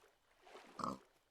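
A single short pig grunt from Minecraft, faint and brief near the end, with no talking over it.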